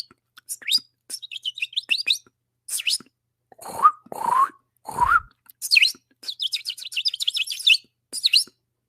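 A voice imitates birds with quick, high chirps and tweets in several bursts, with a few lower swooping whistles midway, loud and close with short pauses between the bursts.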